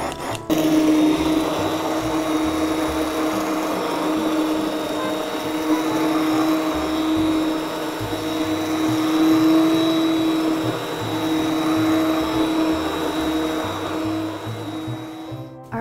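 A blender steadily purees a lentil-mushroom sauce for tagliatelle bolognese, giving a loud, continuous motor whir that runs almost unbroken for about sixteen seconds.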